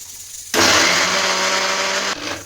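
A kitchen blender grinds chutney ingredients with lemon, sugar and salt, starting abruptly with a loud, steady whir for about one and a half seconds, then dropping to a softer spin.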